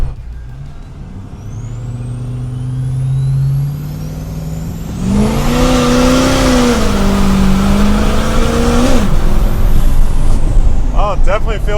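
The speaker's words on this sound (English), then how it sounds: "It did not spin on a 4-wheel launch" A truck accelerates hard from a standstill in a four-wheel launch, engine roaring and rising in pitch for several seconds before easing off, loud and close.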